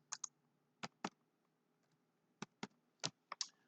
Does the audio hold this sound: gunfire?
no